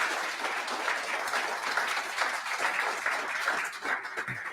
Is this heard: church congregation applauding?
yes